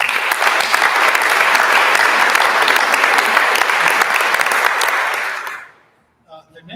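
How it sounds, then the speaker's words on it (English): Sustained audience applause at a university international achievement awards luncheon, loud and steady with many hands clapping, dense and even for several seconds before fading quickly to near silence, with a faint sound at the end. "one more round of applause for all of them"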